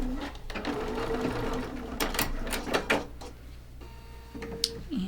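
A sewing machine stitches fabric pieces placed right sides together along a drawn line for a quilt block, running in a steady mechanical whir with short pauses and clicks, close and fairly loud.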